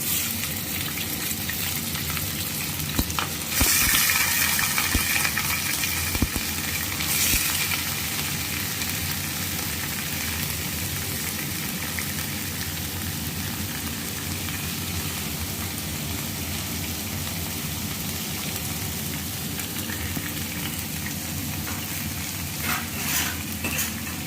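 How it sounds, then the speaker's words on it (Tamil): Chicken pieces sizzle and fry in oil in a kadai with onion, a loud, steady crackling hiss that continues unbroken, with occasional stirring clatter near the start. "இதில் சிக்கன் அப்படியே போட்டுக்கிறேன்."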